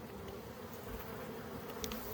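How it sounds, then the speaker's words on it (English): Bees hum steadily inside an opened hive during a winter Formic Pro varroa mite treatment check, a close, even buzz with faint higher wingbeats flicking past, and no talking. "Lots of bees in here."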